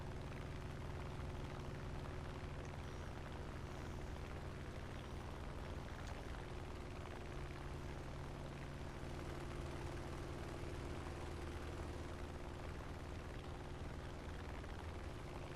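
A piston fighter plane's engine drones in a sustained climb during War Thunder play, a steady, dense hum with constant tonal layers and no breaks, moderately loud and unaccompanied by talk.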